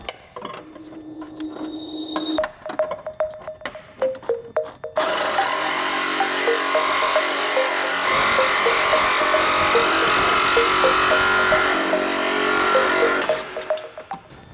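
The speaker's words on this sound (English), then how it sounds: "So we're gonna cut that off and get it out of the way right now." A power tool cuts off a wiring harness tab clipped to a stud near the firewall of a Subaru BRZ / Scion FRS during a clutch master cylinder upgrade: light clicking handling, then a loud, sustained high-pitched whine for about eight seconds.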